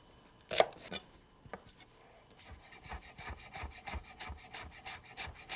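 A knife shaves a young spring onion on a wooden board in a kitchen, a few sharp scrapes followed by a fast, steady run of close, rhythmic slicing strokes.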